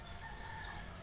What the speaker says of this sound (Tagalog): mao ni ang mga manok nako